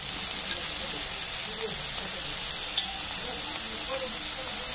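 Kashmiri red chili powder frying in hot oil in a pan for moong dal, giving a steady, even sizzling hiss that holds throughout with no break.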